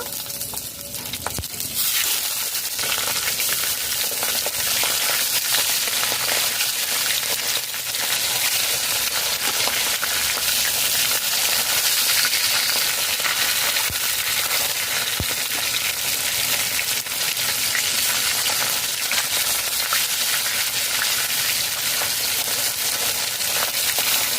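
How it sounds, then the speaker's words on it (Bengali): Barramundi fish bones are dropped into hot mustard oil with a sudden loud burst, then settle into a dense, continuous close-up sizzle and crackle that lasts throughout, with no one talking. "তেল গরম হয়ে গেছে ভেটকি মাছের কাঁটা ভেজে নেব"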